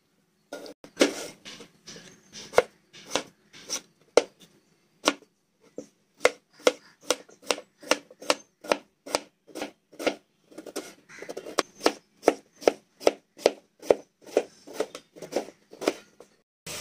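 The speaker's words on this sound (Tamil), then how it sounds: "இப்போ உருளைக்கிழங்கு கட் பண்ணிக்கலாம்." A potato is cut on a board with a knife, producing a long series of sharp, close, evenly paced chopping knocks with short pauses between runs.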